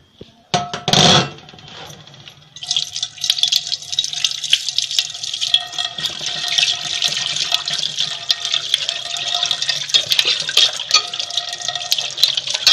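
Tap water splashes and runs steadily while a new cast-iron pan is rinsed after scrubbing off burnt onion, with a brief loud clatter at the start, then continuous close hissing flow.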